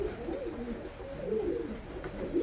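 Pigeons coo softly while eating grain, a few low, rolling throaty calls repeating close by over faint background noise.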